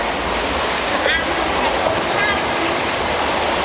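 A child swims and water splashes in a steady, loud wash of churning water, with faint voices underneath.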